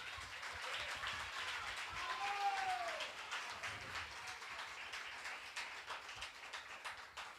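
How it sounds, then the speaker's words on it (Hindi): A church congregation at a Hindi worship service claps together, a dense, even patter of many hands that carries on steadily at moderate loudness for several seconds. "क्या हम लोग जोरदार ताली मार सकते हैं?"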